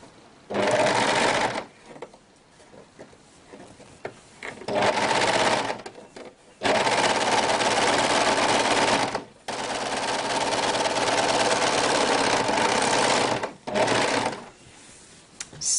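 A sewing machine runs in long loud bursts stitching the seam of a homemade mesh shopping bag, its rapid needle clatter stopping and restarting several times with brief quiet pauses between runs.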